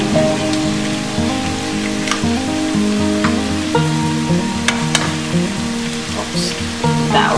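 Two eggs fry in a pan with fried onions and vegetables, giving a loud, continuous close sizzle with crackling pops scattered throughout.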